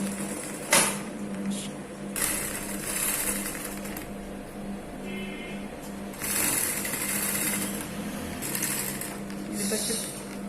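Domestic sewing machine stitching around the edge of sari fabric for an umbrella skirt, a steady mechanical whir running in bursts with short pauses, close by and fairly loud, with faint speech in the background.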